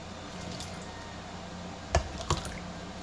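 Two wet splashes a moment apart as cooking juices are ladled into a casserole pan for a cheesy chowder bake, each a short, close pour over quiet background.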